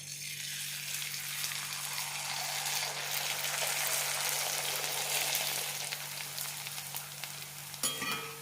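Tapioca papad frying in hot oil over a low flame, a steady broadband sizzle that holds throughout at moderate loudness, close by, with a brief clatter near the end and a low steady hum underneath.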